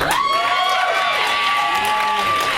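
Red Bar Radio fans clapping and cheering at a comedy roast, a dense continuous roar of applause with whoops and a voice riding over it.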